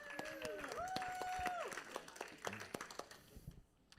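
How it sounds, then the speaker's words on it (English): A round of applause at a recovery meeting, scattered clapping of moderate, somewhat distant loudness over a tonal background sound, thinning out toward the end as voices chatter. "Just one more round of applause,"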